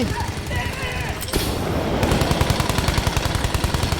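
Rapid machine-gun bursts and rifle fire in Battlefield V multiplayer, loud and close, with a steady rattling rhythm after a brief lull, set against a busy battlefield din.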